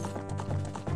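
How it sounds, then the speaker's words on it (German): Zelda's horse galloping in the video game Ocarina of Time, a quick run of rhythmic hoof clops repeating steadily for about a second, close and fairly loud. "Zeldas Pferd rennt hier auch rum"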